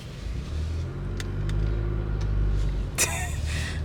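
A car drives away along a street in Tallahassee, a low engine rumble that swells slightly and then fades, with a few faint clicks and a brief sharp noise near the end.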